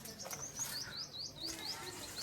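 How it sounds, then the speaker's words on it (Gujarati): Small birds chirp and tweet in a papaya and banana garden where they feed on the fruit, giving quick, repeated high calls, fairly close and light, with a faint background hum. "જો બધા પક્ષી પોપૈયા ખાય."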